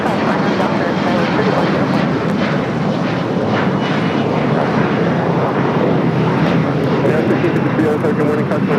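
An airliner takes off from runway 25 right at LAX, its engines producing a loud, continuous roar that holds steady throughout, with radio voices talking over it.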